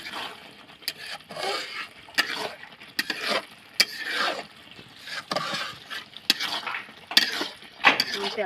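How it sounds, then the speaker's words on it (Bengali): Raw sidol cooks in a pan with oil, soft frying under irregular metal scrapes and clinks of a spoon stirring against the pan, close and moderately loud. "এই যে কাঁচা শীতলটা রান্না করতেছি"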